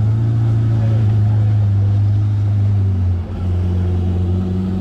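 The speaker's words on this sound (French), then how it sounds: "La Ferrari, elle s'est allumée, elle a mis tout le monde d'accord" A Ferrari sports car's engine drones loud and close on a Monaco street, a steady low rumble that holds throughout with a slight dip near the end.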